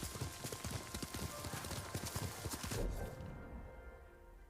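A horse's hooves clip-clop at a steady trot in the video game Ghost of Tsushima, rhythmic close hoofbeats that stop abruptly, leaving quiet ambience.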